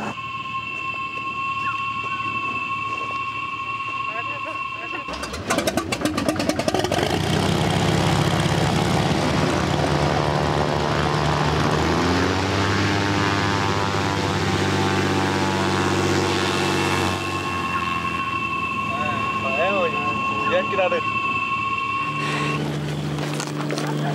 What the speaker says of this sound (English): This little airplane has just dropped us off on this planet, which is not ours.